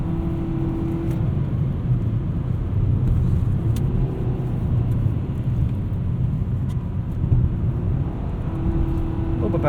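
A 2020 Nissan Sentra SR in sport mode hums steadily from inside the cabin while driving, its engine held at raised revs with a constant low drone and road rumble and no sharp rev spikes.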